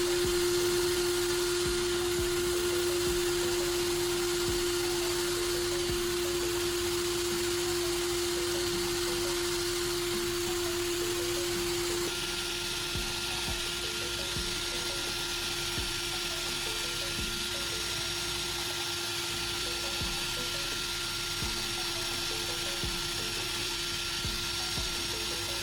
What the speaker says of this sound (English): hold the dull knife against the spinning sandpaper